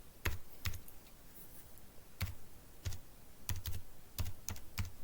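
Typing on a computer keyboard while writing HTML code, with irregular bursts of crisp key clicks close by and no talking.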